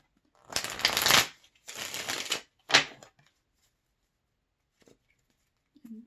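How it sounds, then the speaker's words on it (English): Tarot cards bridge-shuffled by hand in three quick riffling bursts, the last one short, followed by near silence and a couple of faint taps, close and crisp. "Bridge shuffles."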